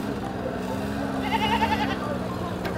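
A goat bleats in a wavering, drawn-out call amid steady background noise and low farm rumble, fairly close.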